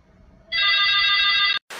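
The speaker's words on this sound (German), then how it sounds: "Telefon klingelt zwar" A telephone rings once, a bright trilling bell lasting about a second, followed by a brief silence and a click of noise.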